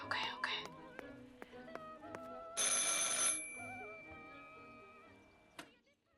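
An old telephone rings in the video game Martha Is Dead, several sharp bell bursts against quiet thuds and faint whispering, with one longer ring in the middle.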